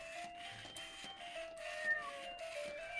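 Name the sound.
robot toy cat meowing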